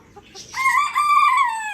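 A chicken gives a couple of soft clucks, then a loud, drawn-out crowing call close by, with no talking.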